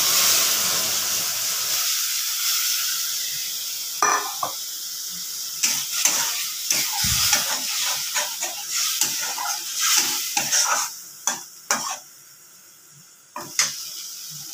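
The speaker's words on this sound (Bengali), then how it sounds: "এটা এখন আমি এর মধ্যে কড়াইতে দিয়ে দিই মশলা।" Spice paste with salt and turmeric frying in a wok gives a loud hissing sizzle that eases off, followed by repeated close scraping and stirring strokes.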